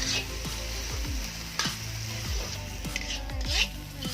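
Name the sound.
stirring mutton curry in a pot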